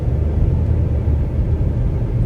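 Road traffic on a blocked residential street, a loud, close, steady low rumble of engines idling and creeping along with no clear voices.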